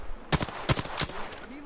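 Gunfire in a video game rings out as a few sharp shots in quick succession, close and fairly loud, with no talk over them.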